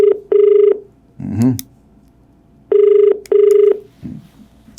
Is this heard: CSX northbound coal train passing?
no